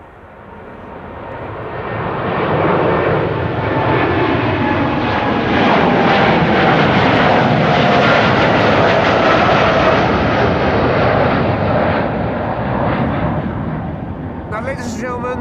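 A KLM Boeing 787-10 Dreamliner jet, registration PH-BKP, bound for Portland, Oregon, roars past at Amsterdam Schiphol, swelling to a loud sustained rumble that holds steady for most of the pass, with a voice talking over it.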